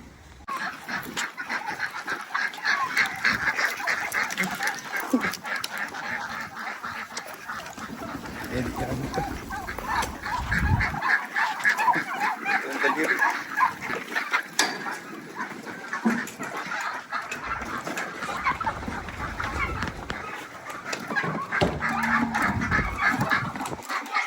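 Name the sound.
chickens clucking while being fed chopped water plant and banana pith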